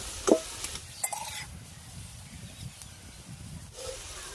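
Fried potato pieces lifted out of hot oil with a few clinks of a utensil, followed by a soft continuous sizzle and hiss as the oil drains, near and moderately quiet.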